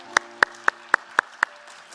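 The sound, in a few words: congregation applause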